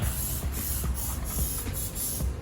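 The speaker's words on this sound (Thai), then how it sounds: "แล้วฉีดน้ำยาใหม่" A cleaning solution is sprayed onto a cloth for removing tar from a car, heard as quick repeated hissing squirts of even loudness, close up with no talking.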